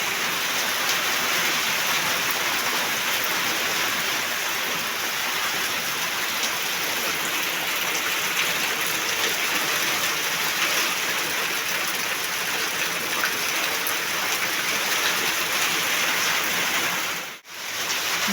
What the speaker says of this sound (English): After a very long time with sun, dust, it's finally raining.